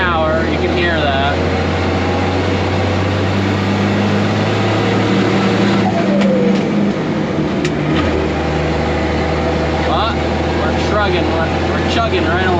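An International truck with a DT466 engine and 8-speed transmission hauls a load of corn, its steady low diesel drone running continuously throughout, with a brief shift in pitch around the middle.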